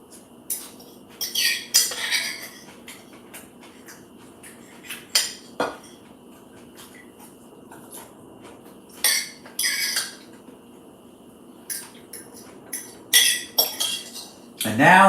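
Cutlery clinks and scrapes against dishes during a Friday night salad meal, with scattered sharp metallic taps in irregular bursts, close and moderately loud, and no talking.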